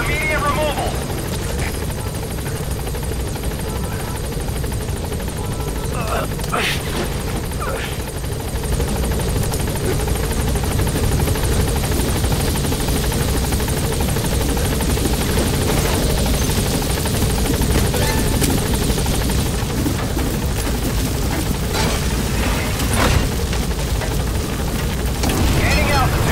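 A helicopter in Metal Gear Solid V drones with a loud, steady rotor roar throughout, close and continuous with a slight swell as it climbs, while a voice speaks over it.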